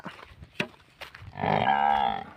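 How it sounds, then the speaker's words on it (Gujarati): A young male buffalo calf lets out a drawn-out, nasal moo lasting about a second, preceded by a few scattered thumps and rustles nearby. "પાડા"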